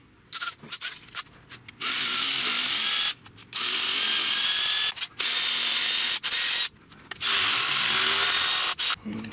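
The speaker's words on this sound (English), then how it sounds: "Let's get the injectors undone." A ratchet undoes the fuel injectors on a Hyundai Santa Fe with a lean idle fault, close by: quick bursts of rapid clicking separated by short pauses, repeated several times.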